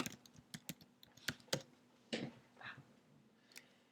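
Computer keyboard keys typed in short, uneven bursts of crisp clicks, fairly close and quiet, with no speech over them.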